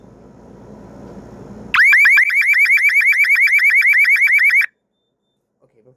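Ademco Wave 2 alarm siren blaring very loudly with a rapid warbling, pulsing tone for about three seconds, then cutting off abruptly; low background noise precedes it.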